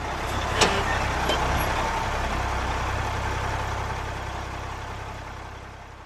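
A bus engine idles with a steady low rumble, close and even throughout, with a couple of faint clanks early on and no voices.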